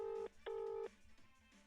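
A telephone ringing: two long electronic ring bursts with a short gap between them, then quiet line noise.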